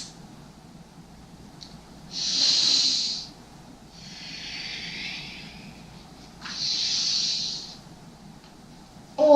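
Deep yoga breathing during arm raises and forward folds: three slow, close breaths, each a long airy rush of inhale or exhale, separated by quiet pauses with a faint background hum.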